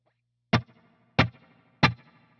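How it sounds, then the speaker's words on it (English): Three separate electric guitar hits, each a loud attack that rings out into a short splashy tail, played through a Line 6 Helix with a spring reverb always on. The hits are evenly spaced and nothing else plays around them. "in the Helix, I have a spring reverb that is always on,"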